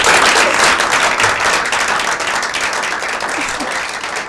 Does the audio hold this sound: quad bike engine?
no